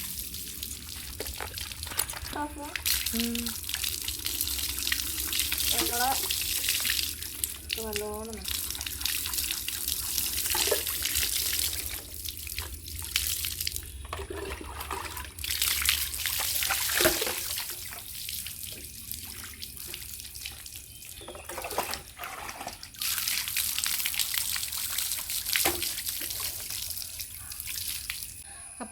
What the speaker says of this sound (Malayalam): ആദ്യം കുറച്ച് വെള്ളം ഒഴിക്കുക.